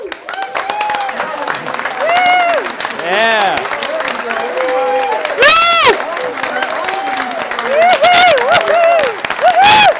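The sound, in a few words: audience applause and cheering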